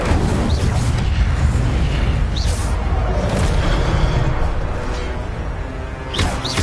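Fiery spell blasts from the Hogwarts Legacy video game, with the Incendio fire spell among them: dense, booming bursts and crackling roars fill the mix loudly and almost without pause.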